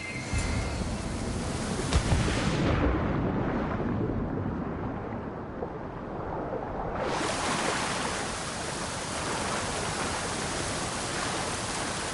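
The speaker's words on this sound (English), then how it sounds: "This is the waterfall." A waterfall roars in Assassin's Creed Odyssey on PS5 as a steady, loud, broadband rush of falling water that fills the scene without a break.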